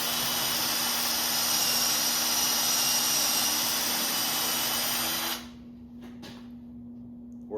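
A Ryobi 4-amp corded drill bores through a piece of wood trim, its motor whining loud and steady for about five seconds before cutting off abruptly, followed by a couple of faint clicks.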